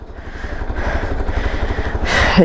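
A Hero XPulse 200 4V test-variant motorcycle running close by, a low, steady, throbbing engine note that swells slightly toward the end.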